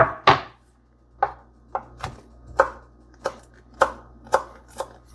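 A knife mincing aromatics on a cutting board taps out about ten crisp, close chops in an uneven rhythm, each a sharp knock against the board with short quiet gaps between.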